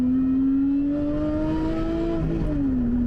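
A mid-engined Lotus Emira's engine revs steadily upward toward 7000 rpm in second gear, a smooth rising drone heard from inside the car, then dips briefly near the end.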